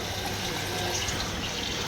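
Water pours from a pump tap at a house construction site, a continuous close hiss and rush of flowing water with no pauses.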